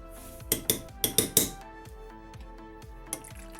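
A spoon scrapes and clinks against a pot while sour cream is mixed into tomato sauce. Several quick metallic taps come in a cluster, then scattered softer knocks follow, close and fairly quiet with no talking.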